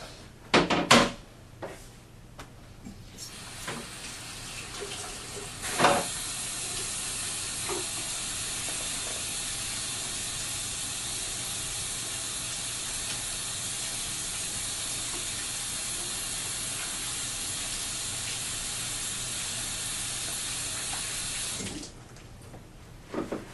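Warm water runs steadily from a kitchen tap as hands are washed with soap after handling raw pork, a broad continuous rush lasting most of the time, with a few knocks and clatters at the start and a brief pause near the end.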